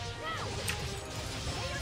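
Shatter Fang attack landing in the Tales of Zestiria video game: a dense, loud burst of smash-and-whoosh combat noise with overlapping hits, sustained over the whole moment amid game effects.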